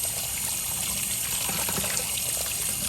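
Steady running water rinsing blood off mackerel, a continuous close trickle and splash that holds at an even level throughout, with no speech over it.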